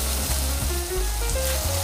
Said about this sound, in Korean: 숙주나물과 차돌박이 넣어서 맛있게 구워볼게요